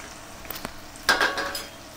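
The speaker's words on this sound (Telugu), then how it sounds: "చూడండి, ఆయిల్ మంచిగా గాగింది, బాగా వేడెక్కింది. ఇప్పుడు ఉల్లిగడ్డ వేసుకుందాం." Sliced onion drops into a pan of hot oil for a home prawn dish, with a couple of utensil clinks followed by a sudden close burst of sizzling that settles into a steady fry; no one speaks.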